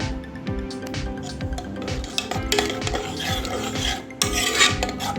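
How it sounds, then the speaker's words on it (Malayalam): Broken wheat payasam gets stirred after jaggery syrup is poured in, making a steady rhythmic scraping and rasping of a spoon through the thick mixture in a metal pot, close and fairly loud with no talking. "ശർക്കരപ്പാനി ചേർത്ത് കൊടുത്തതിന് ശേഷം നമുക്ക് നന്നായിട്ടൊന്ന് ഇളക്കി യോജിപ്പിക്കാം"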